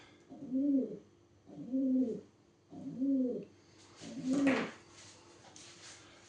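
Four soft, low pigeon coos in a steady rhythm, each about a second long with short pauses between, close by; a faint hiss lingers after the last.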